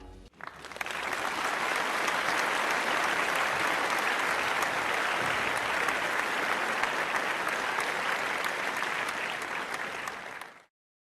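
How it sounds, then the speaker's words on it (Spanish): A strong, sustained round of applause from an audience at an event celebrating a project, rising quickly and holding steady for about ten seconds before stopping abruptly. "Nuevamente un fuerte aplauso y felicitaciones a todas y todos por este gran proyecto."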